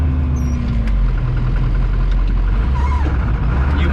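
A heavy 7.3L diesel engine in an OBS Ford flatbed truck rumbles steadily up close, deep and throaty, with faint squeaks and rattles over the low drone.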